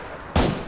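A gunshot in the military shooter game Arma 3 in foggy conditions, a single sudden loud blast with a rumbling tail that fades over the remaining fraction of a second.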